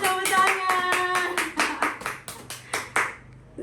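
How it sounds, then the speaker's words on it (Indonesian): Hands clap in a classroom lesson: a run of about a dozen sharp claps, starting quick and overlapping with a sung or spoken tone, then settling into slower, evenly spaced single claps heard up close. "tepuk tangan"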